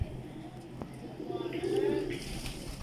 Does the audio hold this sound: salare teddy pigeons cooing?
yes